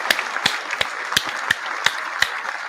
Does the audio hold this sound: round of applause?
yes